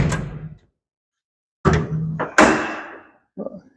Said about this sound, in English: Make sure the door is closed.